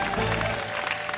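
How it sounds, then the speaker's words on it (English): A studio audience at a game show claps steadily in a dense, continuous burst of applause that fills the whole short moment. "the audience are clapping like something exciting's about to happen"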